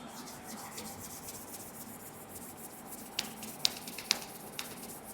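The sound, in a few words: rubbing palms together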